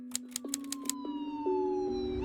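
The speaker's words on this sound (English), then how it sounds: "The sirens went off, and within minutes of the robbery, police officers and FBI special agents descended upon the Brinks building." A few sharp typewriter-like clicks give way to a police siren tone that sustains and slowly sweeps downward in pitch, fairly faint.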